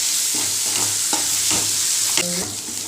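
Ginger garlic paste and onions sauté in a pan with a dense, steady sizzle, punctuated by several distinct scraping strokes of a spoon stirring the mixture. Close and fairly loud throughout.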